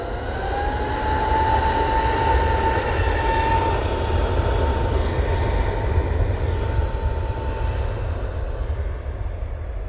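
An Air Transat airliner at Manchester Airport passes with a loud, steady jet roar and a rising engine whine that holds for the whole stretch, with no voices.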